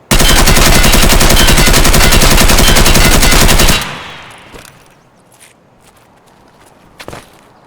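Fully automatic assault rifle fire from a crouched stance in the video game Escape From Tarkov, a loud unbroken burst for nearly four seconds, then dying away into quiet with a few faint clicks and footsteps.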